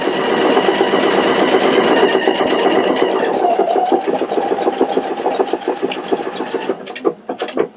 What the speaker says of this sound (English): now we're just going to go ahead and stitch out that particular stitch